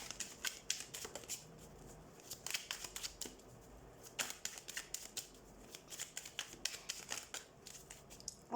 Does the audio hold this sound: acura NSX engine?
no